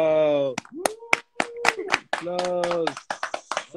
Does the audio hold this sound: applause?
yes